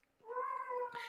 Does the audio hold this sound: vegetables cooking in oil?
no